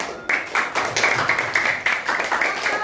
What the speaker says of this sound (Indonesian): tepuk tangan buat kelompok Sunan